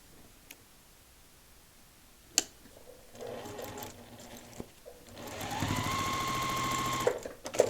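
A sewing machine stitches through paper-pieced quilt fabric in short bursts, first a brief run, then a longer steady whirring stretch, with faint clicks and handling noises between, close and clear.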